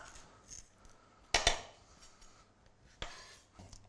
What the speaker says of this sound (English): Now, cut through the center. Cut the seeds out.